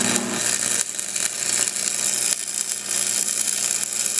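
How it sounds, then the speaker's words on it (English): A 6013 electrode stick weld burns steadily, with a continuous crackling, sizzling hiss and irregular pops, close and alone with no talking. "We're going to weld right across here and let you look through the lens and see what we're seeing."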